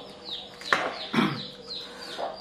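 Soft clucking from a chicken, a few short calls at moderate distance, with faint bird chirps in the background.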